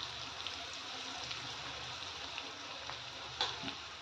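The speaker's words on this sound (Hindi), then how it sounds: "अब सारा मैं वेजिटेबल्स डाल रही हूँ" Mixed vegetables, including corn and carrot, go into a pan with turmeric, giving a faint, steady frying hiss with a few soft crackles.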